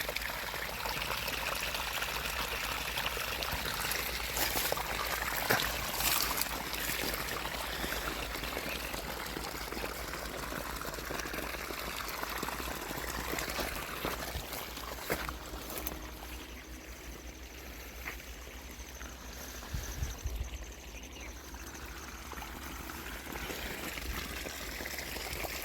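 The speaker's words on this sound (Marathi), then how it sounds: "आता बऱ्याच दिवसातून आता पावसाळ्यानंतर आत्ता पाणी देऊ राहिलं." Irrigation water flows and trickles steadily into a farm field after the rainy season, a soft continuous gurgle heard faintly at close range with no talk.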